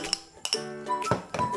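Small cubes of cut potato drop into a mixing bowl for aloo kabli. They make a quick series of bright clinks, and the bowl rings briefly after each hit.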